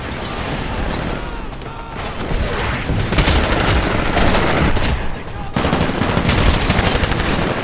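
Gunfire in the sci-fi shooter game Titanfall, with loud, sustained rapid automatic fire and booming impacts across the whole stretch, while voices talk over the combat.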